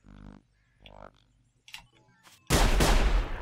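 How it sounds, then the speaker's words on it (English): Gunfire from enemy hunters in the game Sir, You Are Being Hunted: after quiet moments with faint game sounds, a sudden loud burst of shooting erupts and rolls on, close and harsh. "they're shooting at me"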